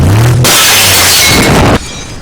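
Something shatters and breaks apart in one loud, sustained crashing burst of about a second and a half, then cuts off into quieter rumbling.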